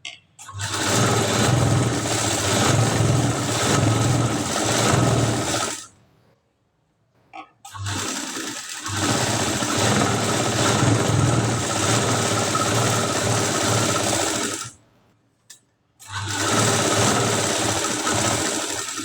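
A sewing machine runs steadily while stitching a katori blouse, a loud continuous motor whir that stops briefly twice before resuming.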